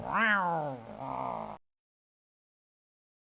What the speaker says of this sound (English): The cat struggles in vain inside the bag.